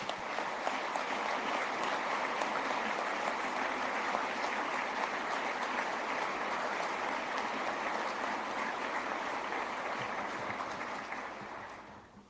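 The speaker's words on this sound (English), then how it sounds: "Let's give them a round of applause." Sustained audience applause at a military change of command ceremony for a new CENTCOM commander, a dense, steady wash of many hands clapping that holds for about eleven seconds before fading out at the end.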